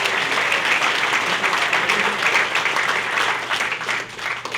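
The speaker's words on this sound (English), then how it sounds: "how about a round of applause?" Audience applause fills the room at a chamber installation dinner, dense sustained clapping from many hands at close range, easing slightly toward the end with no talk over it.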